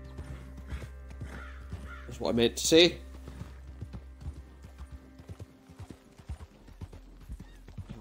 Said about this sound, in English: the horse is getting a little bit nervous